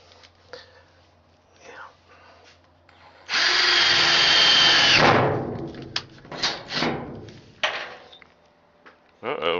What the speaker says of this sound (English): I was drilling and it caught and it bent a bit